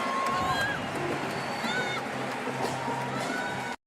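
A crowd at a CrossFit Strength in Depth competition cheers and roars continuously, with whoops and shouts rising over a dense babble of voices, fairly loud and sustained throughout.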